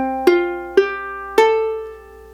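Three plucked notes on a high-G ukulele ring out one after another in campanella style, each struck sharply and left to sustain and overlap, bright and close, with no voices.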